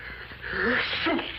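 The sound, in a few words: sneeze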